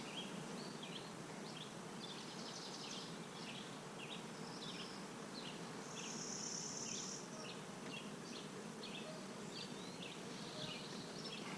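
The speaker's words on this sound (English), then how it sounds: "The density of bees on these frames in this hive is always so high." Bees buzzing on densely crowded frames during a summer hive inspection: a steady, dense, quiet hum of many bees close by, with occasional brief higher buzzes of single bees flying past, and no talking.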